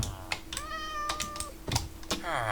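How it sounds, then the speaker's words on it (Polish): A cat in a Minecraft village gives a drawn-out meow followed by a second shorter one, close and clear, amid scattered clicking taps like keyboard keys. "kota mają."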